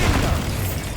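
Bombarda blasting spell explosion in Hogwarts Legacy, a deep loud boom filling the whole brief moment with rumbling low roar and no talk.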